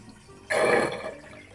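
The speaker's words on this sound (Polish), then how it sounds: "Woda na liściu" A short gush of water runs and splashes onto a leaf, a single soft burst lasting under half a second against a faint, quiet background.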